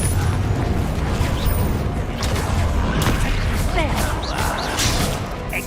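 A Confringo fire blast spell explodes amid a busy Hogwarts Legacy battle, a loud crashing boom folded into steady combat noise with troll fighting and voices talking.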